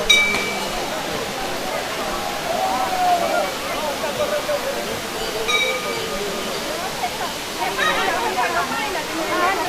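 Water pouring down the Khuludi waterfall on Malyagiri mountain in Pallahara, a steady broad rushing roar that stays constant throughout, close and fairly loud, with faint voices from people nearby.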